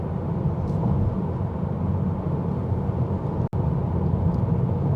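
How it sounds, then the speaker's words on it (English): Steady low rumbling road and tyre noise inside a 2024 Tesla Model 3 driving at night on a rough road surface in Sydney, a constant broadband hum with one brief dropout near the end. "Some of the road noise does come through"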